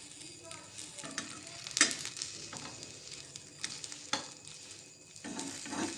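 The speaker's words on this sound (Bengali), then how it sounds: "তো বন্ধুরা এইভাবে আমি সবগুলো ভেজে নেবো" Oil crackles and sizzles steadily as rolled dough pieces fry in a pan, with occasional sharp pops and a few scraping stirs.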